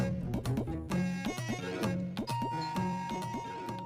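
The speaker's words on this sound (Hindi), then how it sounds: "दरवाजे पे डोरबेल बजी है, जाके देखो कौन है" A doorbell chimes indoors in a house, with repeated bright ding-dong tones ringing over a busy layered background of music-like sound.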